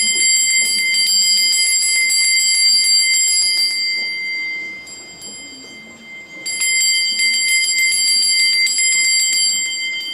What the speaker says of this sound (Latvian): Arī otrā daļa sākās ar gongu.